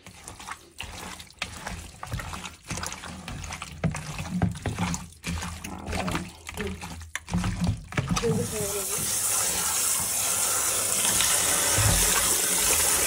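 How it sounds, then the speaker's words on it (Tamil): Water poured from a tap to rinse food in a kitchen sink, a steady close gush that grows louder and fuller in the second half, with someone talking over the start. "நல்லா தண்ணி ஊற்றி கழுவிட்டோங்க"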